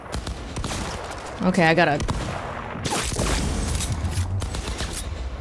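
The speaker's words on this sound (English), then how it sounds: "Opening fire." Bursts of gunfire in the video game Cyberpunk 2077: Phantom Liberty, loud broadband shots in a combat firefight, partly under a voice talking over the action.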